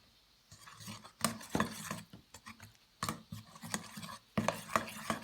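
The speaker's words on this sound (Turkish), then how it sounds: "İçerisine 4 yemek kaşığı sirkeyi ilave edelim ve 4 yemek kaşığı un ilave edip hepsini karıştıralım" A spoon stirs a sauce of oil, vinegar and flour in a bowl, making soft scraping and occasional clinks that come in uneven bursts with brief pauses, close by and fairly quiet.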